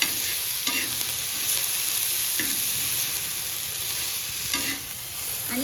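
A spoon stirs green chili thecha with fresh coriander in a hot pan, producing a soft continuous sizzle with occasional scraping strokes against the pan.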